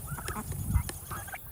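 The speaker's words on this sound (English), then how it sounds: "These are the turkeys. They come over to say hello and see what's going on." Farm turkeys calling near a caretaker during summer morning chores, a few short gobbling and honking calls over low rumbling background noise with no speech.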